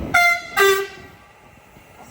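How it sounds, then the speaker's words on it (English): A train on the Southend Victoria to London Liverpool Street service at Shenfield sounds two short horn toots in quick succession, followed by quieter rail rumble. "off goes this service from Southend Victoria to London Liverpool Street departs"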